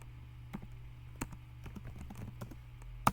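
Keystrokes on a computer keyboard while entering a website search, a sparse, irregular run of soft clicks at close range, ending with one sharper key press, and no talking.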